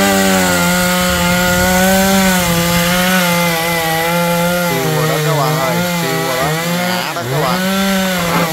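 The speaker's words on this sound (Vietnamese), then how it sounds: "Rồi bắt đầu mình cưa hàng cho ngã đó các bạn ơi." A chainsaw cuts through the trunk of a palmyra palm tree near power lines, its engine droning loudly and steadily, then bogging and revving in pitch toward the end as the cut deepens.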